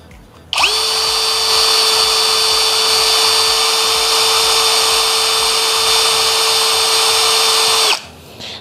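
A Nagawa NCD16B brushless cordless drill runs at its high speed setting, spinning up sharply into a loud, steady, high-pitched whine that holds for about seven seconds before cutting off abruptly.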